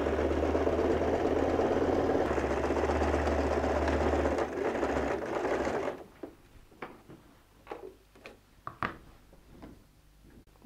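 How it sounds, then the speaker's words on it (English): A sewing machine straight-stitches a half-inch seam joining the top and bottom of a recycled denim jeans bag, humming steadily for about six seconds before stopping, followed by scattered handling clicks and taps. "We have done a straight stitch joining the top and bottom of the bag."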